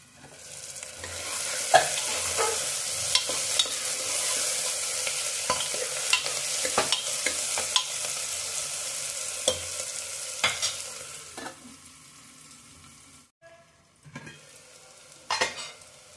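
Onions frying in a covered pan for a paneer curry give a steady close sizzle through most of the clip, with occasional stirring clinks, before the sizzle drops away near the end.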